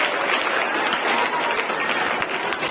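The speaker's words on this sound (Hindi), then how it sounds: "एक बार उनके लिए फिर देखो ना जोरदार तालियों से स्वागत" Loud, continuous clapping from an audience at a World Indigenous Day ceremony, a thick, even wash of applause holding steady throughout.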